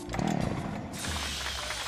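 In the PC game Hell Yeah! Wrath of the Dead Rabbit, a harsh, grinding mechanical buzz of a saw cutting, steady and close, lasts a couple of seconds with no talk.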